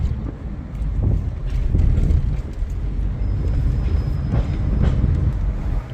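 A tram rumbles past nearby on a Kyiv street with steady low clatter and some wind buffeting the microphone, no talking.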